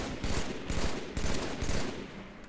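Gunfire in the console shooter Halo 3, four or five evenly spaced bursts of rapid shots, loud and close, alone without talk.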